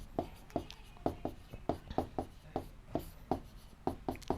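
Answers are written out by hand during a class 7 maths lesson on symmetry. The pen or chalk gives soft, evenly spaced taps and short strokes in a steady rhythm, close and quiet, with no voices.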